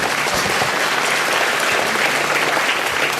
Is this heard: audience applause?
yes